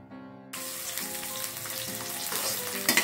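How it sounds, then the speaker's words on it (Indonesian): Shallots, garlic, kencur, bird's eye chilies and galangal dropped into hot oil, a sudden loud sizzle that keeps crackling and bubbling steadily after a brief tonal sound at the start. "Selanjutnya kita goreng bumbu-bumbunya ya, yang terdiri dari bawang merah, bawang putih, kencur, cabai rawit, dan lengkuas."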